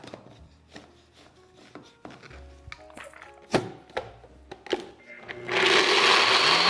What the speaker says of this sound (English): now we're just gonna blend this until those cashews are super,